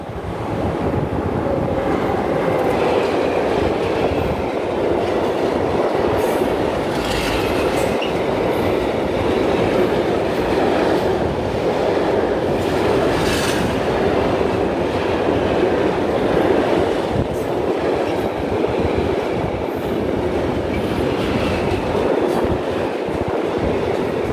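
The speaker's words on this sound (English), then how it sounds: "That was clearly a transport train that taken wood" A long freight train carrying wood rolls steadily past close by, a continuous loud rumble with rattling, clattering wheels that never lets up for the whole stretch.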